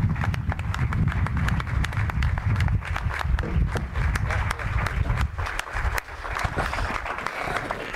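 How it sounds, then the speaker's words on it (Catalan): Audience applause for literary translators at a Catalan literary translation event, a dense sustained clapping from a crowd in a hall, loud and steady for the whole stretch with a brief dip near the end. "jo els demano un gran aplaudiment per als traductors"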